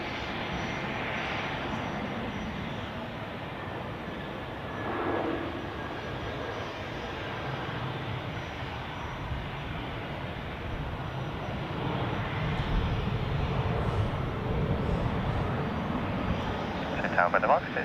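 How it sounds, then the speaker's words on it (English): A Swiss Airbus A320 airliner inbound from Nice on approach to Zurich Airport in crosswinds, a steady distant jet engine drone that swells slightly toward the end, with a voice talking over it. "A320 on approach, flying for Swiss inbound from Nice in southern France."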